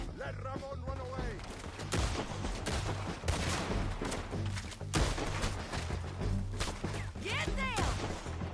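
Repeated gunfire crackles and booms through a Red Dead Redemption II shootout, with irregular bursts of shots throughout and voices shouting over the fighting.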